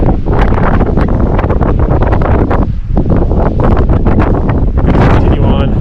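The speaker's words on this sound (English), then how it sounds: "it's pretty windy" Strong wind buffets the microphone on the open summit of Mount Major in New Hampshire's Belknap Range, overlooking Lake Winnipesaukee on a fall hike, a loud, constant rumbling roar with gusty swells and only a brief lull.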